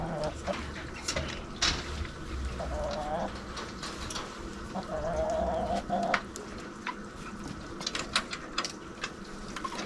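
Hens cluck and murmur inside a backyard chicken coop with chicks nearby, a busy mix of short calls and squawks at moderate distance over faint rustling.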